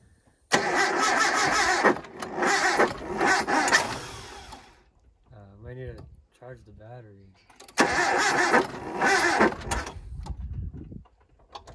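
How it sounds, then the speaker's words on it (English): A Nissan Hardbody dually truck engine cranks and catches in loud bursts, stops, then cranks and fires again near the end, with someone talking briefly in the pause between attempts. "We're gonna give it a first crank and see what it does."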